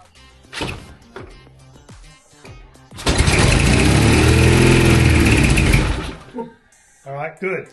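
A Chang Jiang CJ750 motorcycle with the choke on cranks and fires, then runs loudly for about three seconds before cutting out, with talk before and after the engine noise.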